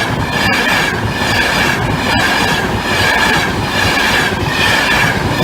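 A train with a DVT set rolls over the Barnby Road level crossing, a loud, steady roar with rhythmic clicking of wheels over rail joints, close by and continuous, with no voices.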